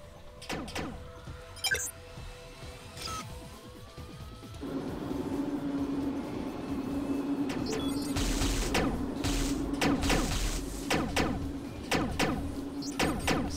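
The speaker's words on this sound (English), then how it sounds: "I'm holding the fire button down, and it's not exactly lining up, so it should be a constant sound, but it's doing like a burst fire sound" Gunfire from a held fire button in the ACE Online video game, sounding as repeated bursts rather than a constant stream, with a steady engine-like drone building underneath and louder crackling bursts toward the end.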